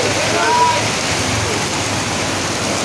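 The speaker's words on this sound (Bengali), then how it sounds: "ওরে বৃষ্টি" Heavy rain pours during a motorcycle journey, a dense, steady broadband roar of water that stays loud and unbroken throughout.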